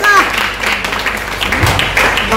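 Crowd applause and cheering at a church service fill the space, with voices calling out over the steady clapping throughout.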